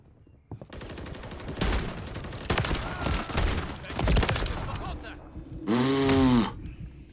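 Gunfire from a shotgun in the Modern Warfare 3 video game rings out in loud repeated blasts, mixed with other game sounds and a voice talking over the action.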